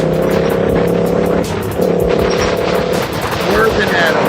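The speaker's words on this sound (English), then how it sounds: "The truck is trying to swerve at him." A truck drives close by and swerves during a roadside confrontation, its engine droning loudly with shifting revs and a brief dip, while people talk over it.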